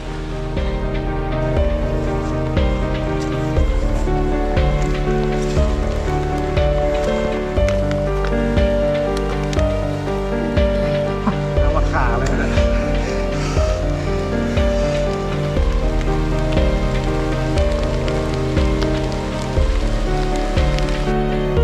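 Heavy rain pours in a forest during a hike, a loud, dense and continuous patter of drops drumming on surfaces with no letup.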